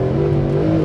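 A Mercedes-Benz SLS AMG with its M159 engine rumbles loud and close in a brief, steady burst, a deep continuous engine drone with no other sounds.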